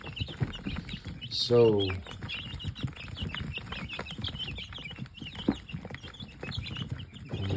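Backyard dual-purpose chickens, including black sex links and a rooster, kept indoors: one loud, drawn-out crow-like call rises early amid scattered nearby clucks and rustling, with a person talking softly in the background.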